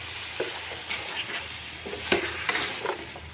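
Tomato paste fries with pieces of meat for achar gosht, a steady close sizzle broken by irregular scraping stirs and small pops, no voices.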